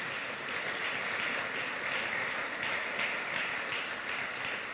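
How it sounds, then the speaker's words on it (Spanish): A church congregation claps their hands for the Lord, a dense, steady wash of applause from many people that carries on evenly with no talking. "Dale palmas al Señor."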